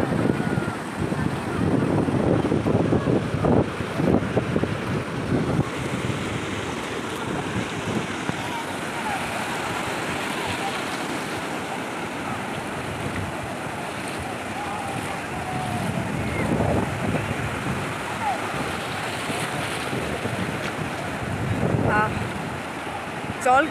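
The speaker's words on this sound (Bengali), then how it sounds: "তো সমুদ্রের ঢেউটা তোমাদেরকে দেখাই।" Sea waves wash in steadily on Bakkhali beach under strong gusting wind that buffets the microphone, a loud continuous roar with surges of surf.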